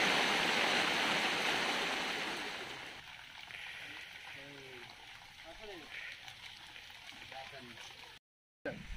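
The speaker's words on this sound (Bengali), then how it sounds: "প্রচন্ড বৃষ্টি হচ্ছে এখন।" Heavy rain pours down near a river in the Sundarbans, a loud steady hiss that fades to a softer patter after a few seconds, with voices and faint bird-like calls heard beneath.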